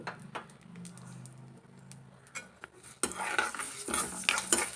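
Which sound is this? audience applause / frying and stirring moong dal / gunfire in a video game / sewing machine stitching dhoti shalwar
frying and stirring moong dal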